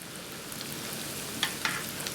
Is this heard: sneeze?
no